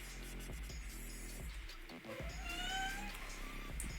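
A kitten meows repeatedly in high, drawn-out cries over a steady background hum and static, fairly close and distinct.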